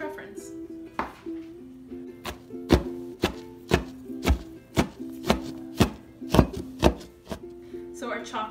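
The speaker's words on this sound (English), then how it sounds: "So our chocolate is all chopped." Vegan chocolate is chopped with a knife on a board in a quick series of sharp, close taps, about a dozen strokes over a faint steady hum.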